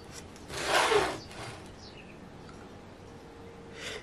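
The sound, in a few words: knife cutting deep into a frozen dessert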